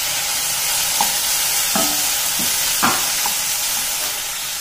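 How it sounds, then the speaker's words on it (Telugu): Tomatoes go into onions frying in a pan, with a steady broad sizzle and several soft stirring scrapes and clinks of a spoon against the pan, close and fairly loud, no talking. "ఇప్పుడు టొమాటోస్ యాడ్ చేసుకోవాలి."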